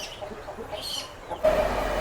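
A cockerel from Nellore, a 10-year-old bird about 4.5 kg, gives soft clucks over a faint background, with a louder burst near the end.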